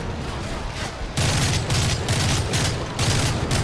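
Gunfire in Call of Duty Modern Warfare 3, played on Veteran difficulty: bursts of rapid automatic fire in several loud clusters, starting after a quieter opening.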